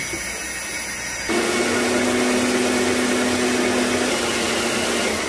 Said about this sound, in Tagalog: hihigupin natin to ng vacuum cleaner